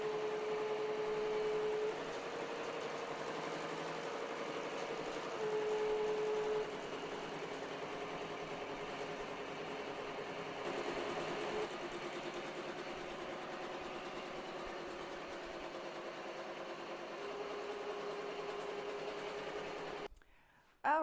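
An embroidery-style sewing machine stitches a design onto a shirt with foam, a steady mechanical whir and rapid needle chatter running continuously at a constant level before cutting off abruptly near the end.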